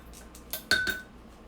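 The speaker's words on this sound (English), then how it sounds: "Then I'm going to add 1 tablespoon of the fish sauce." Metal utensils clink against dishes and a bowl in a kitchen as a tablespoon of fish sauce is added, a few short sharp clinks with a brighter ring in the middle.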